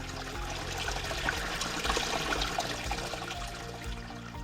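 Water trickles steadily from a spring in a reforested hillside forest, a continuous close splashing with no voices.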